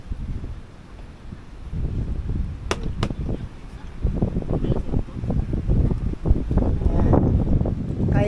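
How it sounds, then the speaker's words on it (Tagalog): Strong wind buffets the microphone at a beach campsite, a loud rumbling gusty roar that builds stronger toward the end, with a couple of brief sharp clicks. "Lakas ng hangin ah."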